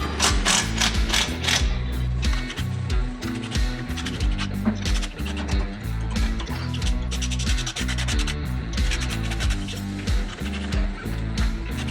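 On an LS-swapped Chevy Luv, hand tools remove the clutch assembly and flywheel, giving a loud, close run of ratcheting clicks, metallic grinding and rubbing in busy rhythmic bursts, without talk.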